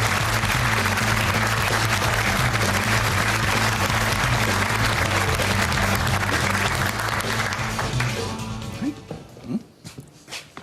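Studio audience on a British daytime talk show applauds loudly and steadily, a dense wash of clapping that fades out near the end, with a few voices breaking through.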